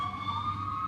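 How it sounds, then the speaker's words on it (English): Siren of a fire engine racing past: a steady, loud wailing tone held through a brief moment, with low engine rumble beneath. "she heard the siren of a fire engine and watched, entranced, as it flew past her out towards the country"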